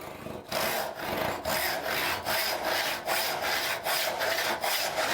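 A hand saw cuts wood along a marked line in steady, even back-and-forth strokes, about two per second, a close, raspy rhythmic rasp with no talking.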